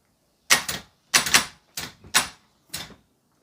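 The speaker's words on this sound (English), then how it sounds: "we make contact here, and it should go click and make the motor go and push the gear out" A Nissan VK45DE starter motor from a D22, tested on the bench, gives five separate sharp clicking bursts in an uneven rhythm, near and fairly loud against silence.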